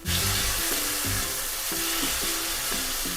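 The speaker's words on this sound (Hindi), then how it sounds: "1 मिनट तक टमाटर को भूनेंगे" Tomatoes frying with browned onions for homestyle pav bhaji, a loud constant sizzle with rhythmic scraping strokes of a spatula stirring the pan, close up and without talk.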